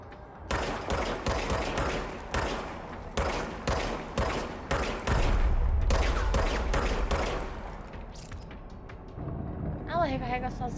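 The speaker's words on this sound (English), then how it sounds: "Okay, now I have a gun." Gunfire in Control comes in repeated rapid bursts with short gaps, loud and close, ending in a heavier rumbling stretch, and someone speaks briefly near the end.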